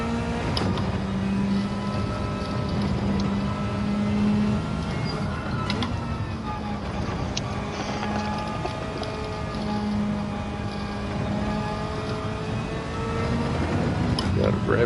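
A Ferrari engine revving hard during a practice session at Laguna, a dense, loud, droning roar with shifting harmonic pitch that holds steady throughout without a break.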